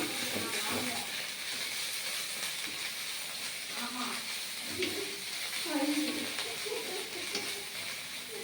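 Ginger garlic paste sizzles and hisses steadily in a hot pan as it is sautéed, a continuous close frying crackle with faint voices talking underneath.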